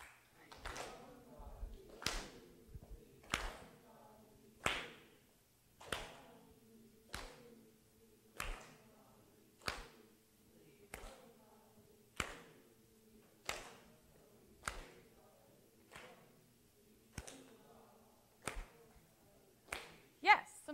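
Students in a classroom clap a rhythm together in unison, sharp group claps landing at a steady, regular beat with short gaps between, fairly close and clear.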